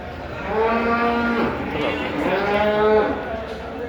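A cow lows twice at a livestock market in Dabwali, two long harmonic moos, the first stretching about a second and the second shorter, close and fairly loud over a busy background of crowd murmur.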